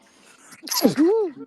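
A single sharp sneeze bursting out close by, followed by a rising vocal sound right after.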